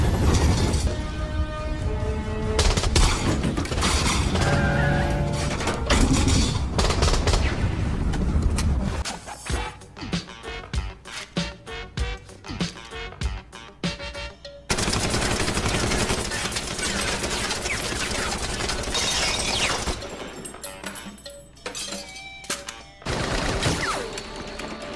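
Rapid bursts of automatic gunfire from MP5-style submachine guns in action movie scenes, loud and dense, mixed with clanks, mechanical clicks and soundtrack noise in choppy cuts.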